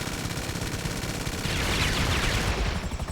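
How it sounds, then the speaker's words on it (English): An explosive cannon on the Savage attack helicopter fires in a video game, a continuous rapid stream of loud booming shots that grows denser and heavier partway through, with no talk. "But this thing has an explosive cannon."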